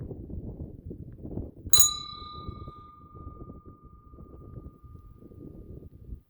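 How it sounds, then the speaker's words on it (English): A small metal bell on the Continental Divide Trail gives one sharp, bright ding that rings out and decays slowly over several seconds against steady outdoor wind noise. "It's just a bell."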